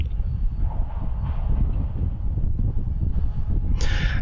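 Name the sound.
train passing on railroad tracks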